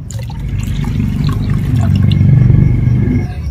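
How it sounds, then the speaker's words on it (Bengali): Water poured into a mixer grinder jar after rinsing it, for a rice paste batter, making a steady, full liquid splash that swells and runs continuously for a few seconds, close by with no talking. "আর এখন আমি মিক্সি জার ধুয়ে আরো 1 বাটি জল দিয়ে দিলাম"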